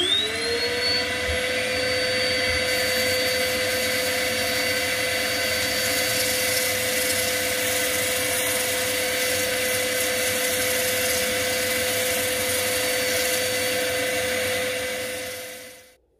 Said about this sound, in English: Just going to do a bit of sanding.